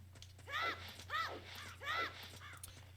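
Crows caw from bird enemies at Lon Lon Ranch in The Legend of Zelda, three harsh, clear calls spaced evenly with a fainter fourth, over a low steady game hum.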